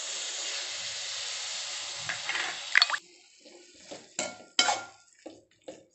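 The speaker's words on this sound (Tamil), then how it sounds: "புளி கரைசல் ஊற்றியாச்சு." Tamarind water poured into a cooking pot of sambar rice makes a steady, close hiss of liquid for about three seconds. A few sharp clinks and knocks of metal cookware follow alone.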